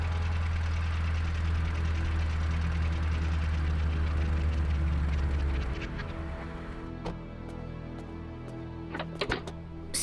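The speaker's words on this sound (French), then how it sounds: "Écoutez, voilà une voiture." A car pulls up with its engine idling in a loud, steady rumble that cuts off partway through, leaving quieter background noise and a few sharp clicks.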